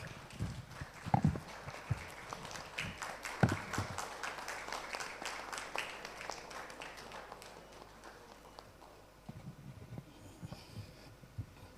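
An audience at a cricket event, standing to honour former cricketer Padmakar Shivalkar, claps in a sustained, uneven patter of applause, moderately distant, with a few louder nearby claps and faint murmur.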